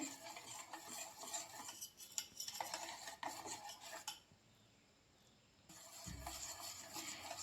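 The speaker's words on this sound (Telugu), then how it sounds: "విస్కర్తో కలుపుతూ ఇలా ఉడికించుకోవాలి మధ్య మధ్యలో కలుపుతూనే ఉండాలండి" A whisk stirs chocolate cream in a pot on the stove for a homemade cake, making faint, busy scraping and swishing that pauses for a few seconds, then resumes with a soft low bump.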